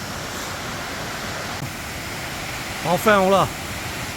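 Steady broadband rush of a waterfall in an outdoor setting, filling the whole clip as a constant roar, with a voice speaking briefly over it near the end.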